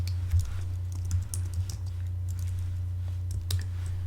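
Someone types text on a computer keyboard, with soft irregular key clicks in short bursts, close up over a low steady background hum.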